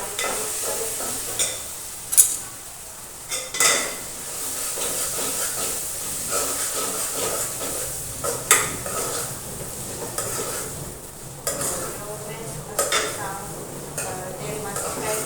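Turmeric, red chilli powder and coriander-cumin powder stirred into hot oil in a pan, with scraping spoon strokes and clinks over a soft steady sizzle and hiss.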